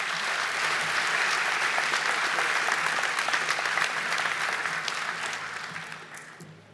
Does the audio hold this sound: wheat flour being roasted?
no